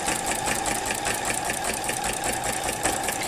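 A sewing machine fitted with a walking foot stitches through a large quilt laid on a kitchen table. It makes a continuous, fast, even mechanical whir with a rapid stitching pulse, loud and close, with no voices.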